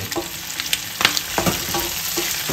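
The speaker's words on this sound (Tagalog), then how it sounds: "Lagay na po tayo ng kamatis, siling labuyo, at pwede rin kayo maglagay ng siling panigang." Tomatoes and bird's-eye chilies sizzle steadily in a frying pan for pork binagoongan, a constant crackling hiss broken by the scrape and clatter of stirring, close and without talk.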